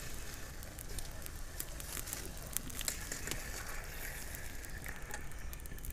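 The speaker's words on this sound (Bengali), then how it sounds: "এবার আমি তেল থেকে সঙ্গে সঙ্গে উঠিয়ে গরম সিরার মধ্যে দিয়ে দিচ্ছি।" Freshly fried jalebi lifted straight from hot oil into hot sugar syrup, a faint steady sizzle and crackle with scattered small pops throughout, no talking.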